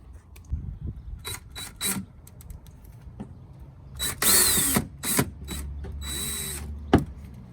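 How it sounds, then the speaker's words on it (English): Short bursts of a power drill whirring as it drills mounting holes on a Dodge Ram pickup, starting and stopping several times, with clicks and handling noises between, close by. "So now I'm just gonna drill these two holes"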